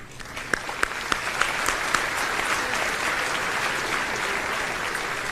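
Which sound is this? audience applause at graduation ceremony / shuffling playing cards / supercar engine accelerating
audience applause at graduation ceremony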